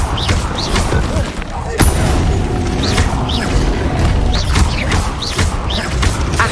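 Spellcasting effects in the Hogwarts Legacy video game, including the Incendio fire spell: repeated whooshing bursts and booms over a dense, loud layer of game sound, with rapid swooping tones recurring throughout.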